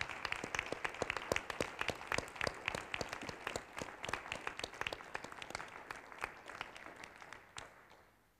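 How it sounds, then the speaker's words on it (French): A small group at a municipal council meeting claps in distinct, countable hand strikes, a fairly sparse and close applause that thins out and fades over the final second. "Je crois qu'on peut les applaudir."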